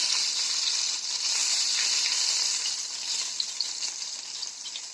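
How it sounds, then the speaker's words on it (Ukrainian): A loud, steady sizzle of meatballs frying in a hot pan, crackling continuously from start to finish. "Це наша остання партія вже підсмажилась, шкварчить дуже, мене, напевно, погано чути"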